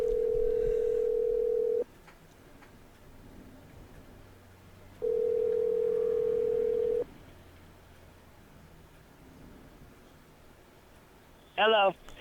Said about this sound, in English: Well, it's ringing anyway.